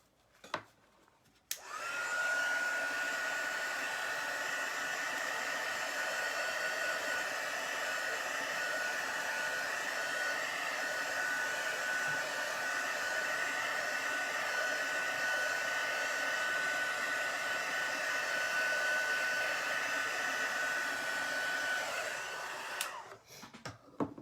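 A hair dryer drying chalk paste on a stencil, switching on with a click and blowing at a steady, loud whine for about twenty seconds before cutting off.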